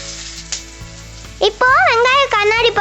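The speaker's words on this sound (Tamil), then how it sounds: "இதுல கருவேப்பிலையை போட்டு நல்லா பொரிய விட்டு கொஞ்சம் நறுக்கின வெங்காயத்தையும் போட்டு" Curry leaves and chopped onions frying in oil for a prawn kuruma, a crackling sizzle mixed with stirring clatter, while a voice talks over the second half.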